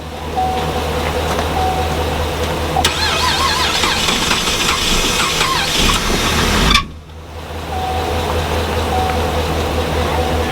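A Chevy Captiva engine cranks and catches after an engine replacement, running at a loud steady idle with a high squeal over it, then cuts out abruptly before the rough running noise resumes.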